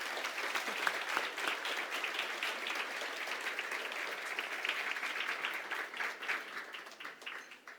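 Sustained audience applause fills a room at a community awards breakfast, a steady dense patter of many hands clapping at once that carries on for several seconds before thinning slightly at the end.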